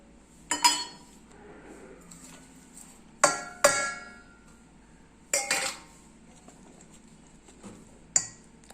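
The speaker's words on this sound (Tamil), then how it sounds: "நூறு கிராம் சர்க்கரையும் ஐம்பது கிராம் நாட்டு சர்க்கரையும் வச்சுருக்கேன் அதையும் பீட் பண்ணிக்கலாம்" A spoon beats sugar and jaggery into melted chocolate and butter for brownies. Sharp, sparse clinks sound against the bowl in small clusters, separated by quiet pauses.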